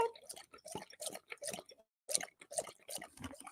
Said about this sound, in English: Do you guys want to hear a dog drinking?